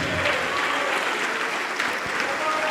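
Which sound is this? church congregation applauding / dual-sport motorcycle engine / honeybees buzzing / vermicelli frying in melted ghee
church congregation applauding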